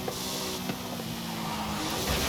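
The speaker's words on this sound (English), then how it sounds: "It definitely spins those rear wheels." Rear tyres of a Ford GT Le Mans race car spinning and squealing in Forza Horizon 5, with a steady engine drone and a tyre screech holding at an even level throughout.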